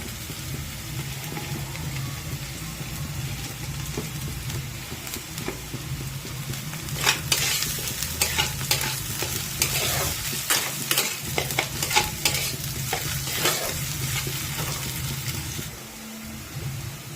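Chopped ginger frying in a pan for vegetable chops, with steady sizzling under repeated scraping stirs that grow busier midway, close and moderately loud, no talking.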